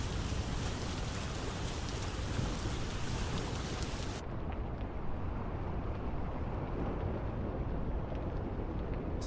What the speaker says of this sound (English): Sound of rain underwater is always very, what's the word I'm looking for? Meditative, very zen.